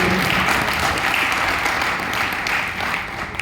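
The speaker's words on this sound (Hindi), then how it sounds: "इसके लिए एक बार जोरदार ताली हो जाए।" An audience at a training session claps for a young girl, a dense, even burst of applause lasting a few seconds before tapering slightly.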